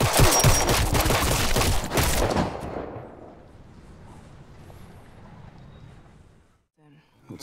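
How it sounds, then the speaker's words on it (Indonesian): A burst of heavy gunfire crackles loudly for about two seconds, then fades into a low, quiet rumble. "membuat Walker melepaskan tembakan hingga akhirnya tewas di tempat"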